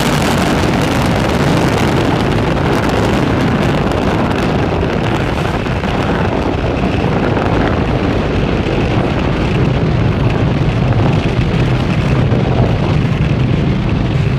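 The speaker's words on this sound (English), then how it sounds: "Falcon 9 has successfully lifted off from Pad 40 at Cape Canaveral Space Force Station" A SpaceX Falcon 9 rocket lifts off from Pad 40 at Cape Canaveral Space Force Station with a loud, continuous, broadband roar mixed with wind buffeting on the microphone, steady throughout.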